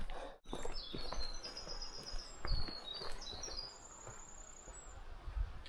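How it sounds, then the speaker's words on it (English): A bird sings a series of high, thin whistled phrases over soft outdoor ambience on the Appalachian Trail, fairly close and clear. "Did you hear that song that bird was singing?"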